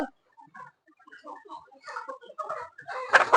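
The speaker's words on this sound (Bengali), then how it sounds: "এই একটা মুরগি চিল্লা রয়েছে" A sick hen with a cold clucks in a farmyard, a series of short, separate clucks and squawks that grow busier and louder, ending in a harsher burst close by.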